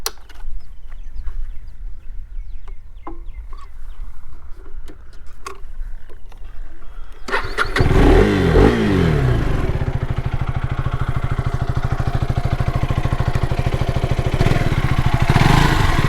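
A motorcycle fitted with an underbelly cover sits idling with soft clicks and ticks, then starts up into a loud, close, steady exhaust drone that holds to the end without dropping off.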